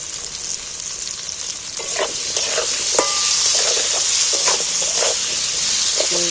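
Coarsely chopped onions sizzle and fry in a pan for a chicken dish, a steady bright hiss with scattered scraping stir clicks from a utensil, close and fairly loud with no voices.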